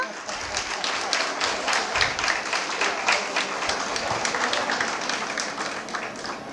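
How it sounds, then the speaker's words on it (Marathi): Audience clapping at a prize-giving ceremony for a 2023 Natyachata competition in Nigdi, a steady moderately loud patter of many hands lasting throughout, with voices mixed in underneath. "टाळ्या वाजवायला श्रम पडतायत का?"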